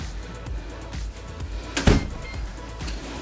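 A utility-room door leading out to the parking area of a house is opened, giving one solid thump amid faint handling knocks and a steady room hum, with no talking.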